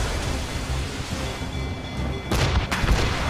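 Ship cannons in Assassin's Creed Rogue fire two heavy booming blasts in quick succession near the end, over a steady roar of sea wind and surf.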